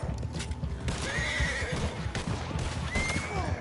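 A horse in the video game Red Dead Online neighs and whinnies loudly up close, with hooves clip-clopping and game ambience underneath.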